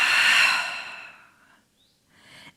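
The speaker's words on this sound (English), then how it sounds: "Inhale, release. Exhale." A loud, drawn-out exhale during a foam roller abdominal workout, fading over about a second and a half, followed after a short pause by a second, softer breath.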